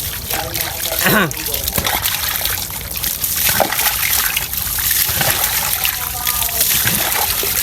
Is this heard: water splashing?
yes